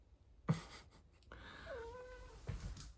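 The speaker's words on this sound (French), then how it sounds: "Le chat." A cat meows a couple of times indoors, a short call followed by a longer drawn-out meow, fairly close and clear over a quiet room.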